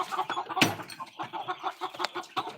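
Hens and a rooster cluck close by in a coop, a busy run of short uneven clucks with a sharp clatter near the start.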